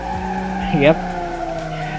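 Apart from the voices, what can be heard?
car tires spinning and skidding in BeamNG.Drive video game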